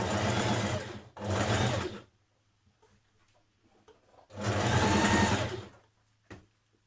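A sewing machine runs in two loud bursts of stitching along a dress seam being taken in toward the waist, with a quiet pause between them and a brief click near the end.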